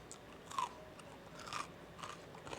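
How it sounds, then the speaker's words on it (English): Crisp, brittle crunches from someone biting into and chewing crispy-skinned salmon, a few close, distinct bites spaced across a short, otherwise quiet stretch. "Can you hear the crunch?"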